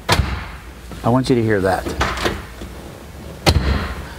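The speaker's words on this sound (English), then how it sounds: "That's a 50-year-old convertible door that still sounds really, really nice." A 1968 Buick GS 400 convertible door shuts with a solid, close thump, then someone speaks briefly before the door closes again with a second firm thud.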